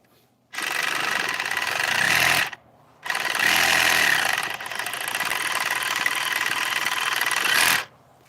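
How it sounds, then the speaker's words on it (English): A Sawzall reciprocating saw cuts the tail off a butchered sheep in two loud, buzzing bursts. The first lasts about two seconds and the longer second runs about five, with a short gap between them. "So we use a sawzall to cut the tail off."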